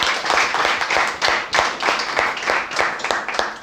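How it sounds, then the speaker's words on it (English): An audience applauds at an English language institute event in Lahore, with steady overlapping clapping throughout, loud and close, with a few brief voices mixed in. "So a big round of applause for him"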